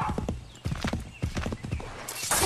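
Horse hooves clip-clop in the Assassin's Creed 3 video game while riding, a fast uneven trot with a brief whinny-like burst near the end.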